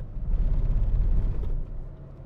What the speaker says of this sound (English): And then when you find rumble strips like this